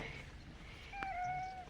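A single short cat meow, fairly faint, rising and falling over quiet background noise on a street in Bol, Croatia.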